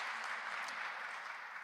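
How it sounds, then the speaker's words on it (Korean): Congregation at a church service clapping to welcome a guest, a dense, even patter of applause held steady and fairly distant throughout, with no talking over it. "예, 박수로 환영하겠습니다."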